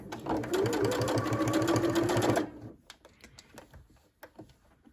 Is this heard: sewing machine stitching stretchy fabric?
yes